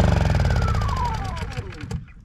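A Honda EU10i inverter generator, warmed up after about ten minutes of running, is switched off: its loud, close engine drone holds briefly, then winds down in falling pitch and sputters to silence within two seconds.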